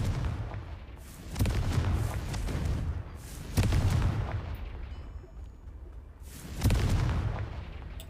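Explosions from the Confringo spell in the Hogwarts Legacy video game, deep, booming blasts that come about three times, each swelling then slowly rumbling away, loud and close.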